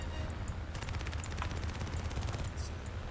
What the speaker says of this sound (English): full open up with all 4 of my machine guns